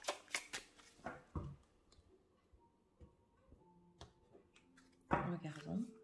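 Tarot-style cards are drawn and shuffled for a reading, with soft papery flicks and taps early and again near the end, and a voice speaking in between.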